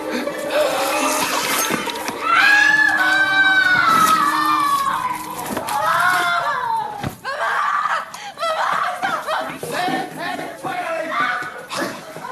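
A person screams loudly and at length, a high wavering cry that rises and falls, followed by more shrieking and chaotic commotion with bangs and voices.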